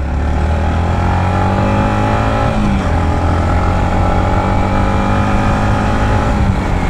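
A 2022 Yamaha MT-15 V2 motorcycle engine runs up close after its first service, a loud continuous idle and rev with a steady droning tone that rises and dips slightly, with no talking.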